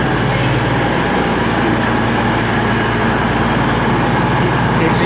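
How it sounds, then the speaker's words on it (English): Two coupled Voyager trains pulling in as the 1412 arrival from Manchester Piccadilly, a loud steady diesel drone and rail rumble that holds at close range from start to end. "the double pairing of Voyagers, which is the 1412 arrival from Manchester Piccadilly, 220020"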